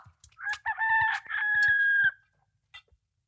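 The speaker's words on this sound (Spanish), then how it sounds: "¡La gallina!" A rooster crows loudly and clearly in a long, drawn-out call, with a few short clucks around it, from Luis Buñuel's film Viridiana.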